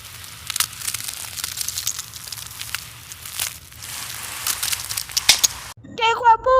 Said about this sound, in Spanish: Y ahora vamos amigos con este lápiz de color blanco.